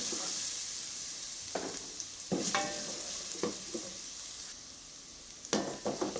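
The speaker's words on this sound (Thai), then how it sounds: "เราจะมาผัด ข้าวผัด หมึกกุ้ง" A pan of squid and shrimp fried rice is stir-fried over a soft sizzle, with several distinct spatula scrapes and clanks against the metal at close range, no voices.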